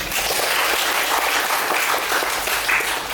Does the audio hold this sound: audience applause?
yes